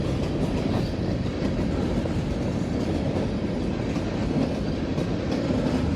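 Spray-painted train wagons keep passing nearby, a dense, even rumble of wheels clacking over rail joints that holds steady throughout, no one speaking.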